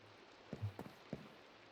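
Rain falls steadily in a video game as a soft, faint hiss, broken by a few brief, louder thuds.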